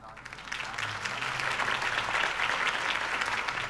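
Steady applause from a crowd after a mayoral campaign speech, dense clapping sustained at an even loudness throughout.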